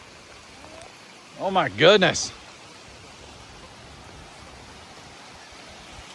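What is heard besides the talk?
rain falling on farm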